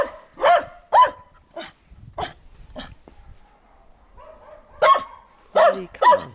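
Dog barking in irregular loud bursts, several sharp barks close by with pauses between, some yelping tones, with no talking.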